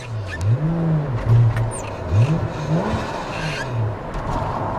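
Close, loud revving from the 2.5-liter 1JZ turbo engine in a Toyota Mark II, several rising and falling throttle blips over a steady idle, heard alone without talk.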